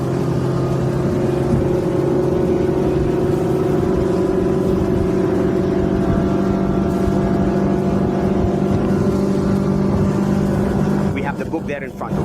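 A Maxima 700 Sport, a 7-meter boat with a Honda 150 V-TEC outboard, runs at full throttle on the water, a loud, steady engine drone that holds throughout and breaks up briefly at the very end.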